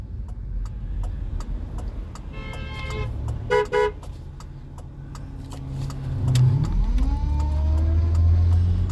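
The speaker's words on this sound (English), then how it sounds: "That guy was honking to thank me for pulling over." A passing car's horn toots in two short bursts at mid-clip over steady road and engine noise on a road in Oregon, followed by a louder vehicle rumbling past nearby.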